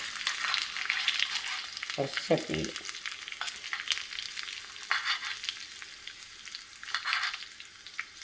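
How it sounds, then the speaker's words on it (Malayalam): Mustard seeds splutter in hot oil as a tempering for dhokla, giving a steady crackling sizzle close to the microphone, with a short burst of speech near the middle. "കടുക് പൊട്ടി."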